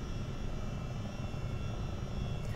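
A Chinook CH-47D helicopter in Microsoft Flight Simulator 2024 drones steadily with a constant engine and rotor rumble, loud and unbroken, with no talk.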